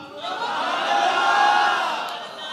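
Large crowd at an Eid Milad-un-Nabi religious speech in Punjabi shouting back in unison, a sustained roar that swells and fades over a couple of seconds with no single voice standing out.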